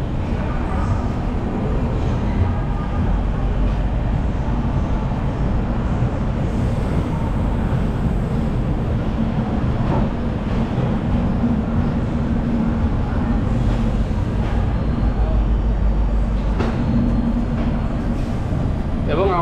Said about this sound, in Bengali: একদম ঠিক 9টা বেজে 20 মিনিটে আমাদের ট্রেন ছেড়ে দিল